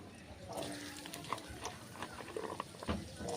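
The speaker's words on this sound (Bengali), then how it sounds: "এবার এই তেলের মধ্যে আমি আলু লাল করে ভেজে নেব।" Potatoes frying in hot oil in a karahi, a steady crackling sizzle with scattered pops and stirring clatter, close and fairly loud throughout.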